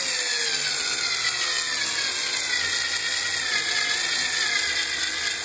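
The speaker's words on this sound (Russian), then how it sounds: "Отвертка не докручивает до конца." Electric screwdriver driving a screw while fitting sliding doors, a continuous high whining motor drone that holds steady and loud the whole time, with no pauses or talk.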